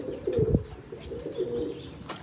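Pigeons coo in a loft, a few soft low throaty calls in short overlapping bursts, near and moderately loud with faint chirps behind.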